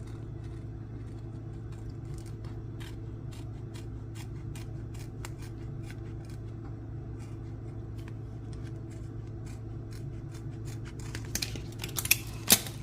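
Sharp repeated snips cut through a mosaic wall tile sheet during a kitchen tiling job, a steady series of crisp clicks over a low constant hum, with a few louder snaps near the end.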